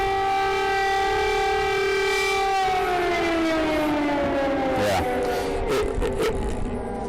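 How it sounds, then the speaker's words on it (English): Civil defense air-raid siren sounding during the Russian invasion of Ukraine: a loud, steady wail with strong harmonics whose pitch slowly falls, then wavers, continuous throughout with faint background noise. "You hear those sirens?"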